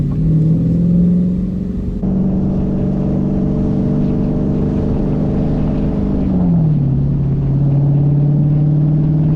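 A 2023 Dodge Challenger R/T Scat Pack Widebody with a Hemi V8 gives a deep, steady engine rumble from inside the cabin, pitch shifting slightly as it cruises and changes gear, loud and continuous, with no talking.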